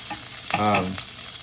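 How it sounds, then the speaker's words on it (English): Chicken sausages frying and sizzling in a pan, with a short burst of stirring or scraping in the middle against a steady crackling hiss. "the chicken sausages, these puppies are sizzling"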